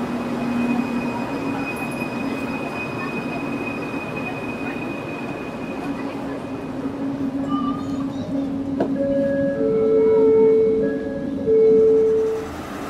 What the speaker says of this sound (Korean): 전철이 다니는데